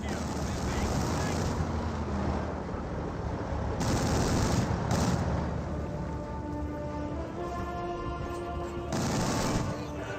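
Sustained machine gun fire rattles on in dense bursts at a half-track in the Company of Heroes 2 strategy game, loud and continuous with brief shifts in intensity, mixed with battlefield noise.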